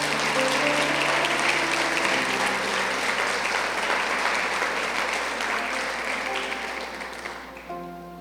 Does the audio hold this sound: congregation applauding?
yes